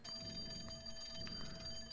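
A telephone rings in a video game, a steady electronic bell tone sounding continuously over a low background game soundtrack.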